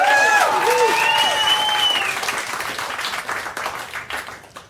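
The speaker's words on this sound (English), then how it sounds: "That nice clap there at the end?" An audience at a comedy show breaks into loud applause and clapping that starts full and dense, then thins out and fades, with a few whoops and voices over it.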